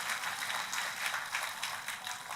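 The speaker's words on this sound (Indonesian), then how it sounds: "Tepuk tangannya yang meriah buat Tuhan kita." A church congregation breaks into applause, a steady wash of many hands clapping together for a couple of seconds, fairly soft and even throughout.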